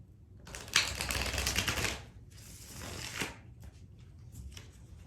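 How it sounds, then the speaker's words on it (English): Tarot cards being shuffled close up, a rapid papery riffle followed by a second shorter shuffle and soft handling noises, with no talking. "And one more shuffle."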